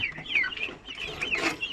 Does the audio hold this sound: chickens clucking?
yes